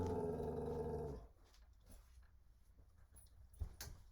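A dog gives a low, throaty growl up close, rumbling steadily for about a second before breaking off into quiet room sound with a couple of faint knocks.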